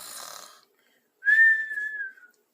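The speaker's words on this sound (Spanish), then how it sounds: "3 ronquidos, 3 silbidos." A voice acts out a storybook dragon, a short breathy snore followed by one long rising-then-falling whistle, close and alone.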